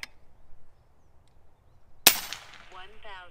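A single sharp air rifle shot from an FX Impact M3 firing .25 pellets, a loud crack after a quiet stretch, followed by a brief ringing tail and a faint muffled voice.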